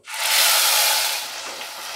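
Cauliflower frying in a pan as a paste of tomato, onion, chili and garam masala goes in, a loud close hiss of sizzling bursting up suddenly, then easing to a softer steady fizz.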